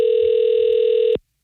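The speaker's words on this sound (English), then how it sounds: "Just going to let it ring all afternoon." A telephone rings on an outgoing call, one loud, steady electronic tone that holds for about a second before cutting off abruptly into silence.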